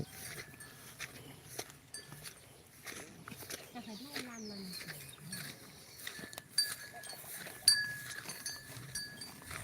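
Goats and other farm livestock call near a rural shed on a rainy morning, with a short bleat rising midway amid scattered background noise, faint bells and people talking.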